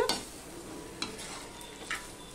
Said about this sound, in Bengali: সম্পূর্ণটা আমি দিয়ে দিলাম, দিয়ে মিশিয়ে নিচ্ছি